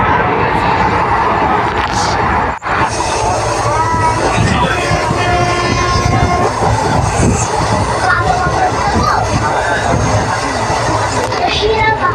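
A train rumbles past close by with rattling wheels and metallic screeches, while a crowd murmurs and talks throughout.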